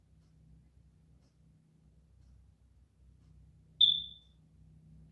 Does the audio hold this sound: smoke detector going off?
yes